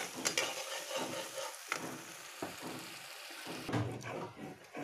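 Onion and tomato paste frying in oil for a yogurt chicken curry, a quiet hiss broken by repeated soft scrapes and stirs of a spoon at an uneven pace, close by with no talking.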